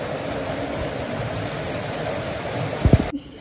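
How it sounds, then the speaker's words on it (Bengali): Steady rain falls in a village setting, a dense even hiss of drops that holds throughout before a few louder knocks and a sudden drop-off near the end. "এরকম বৃষ্টি দেখাও যায় না"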